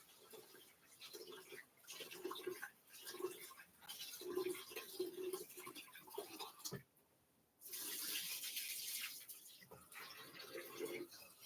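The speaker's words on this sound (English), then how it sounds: "we wash our rice. I have to wash my rice." Rice being washed in water at a kitchen sink, with faint swishing and splashing that gives way to steadier running tap water partway through, all fairly quiet.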